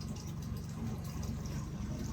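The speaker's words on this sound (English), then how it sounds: "it actually is a pretty substantial flow of water coming through here." Steady rushing of water flowing through a hand-dug rock tunnel, trickling through gravel into a puddle; a continuous, fairly loud wash with no voices.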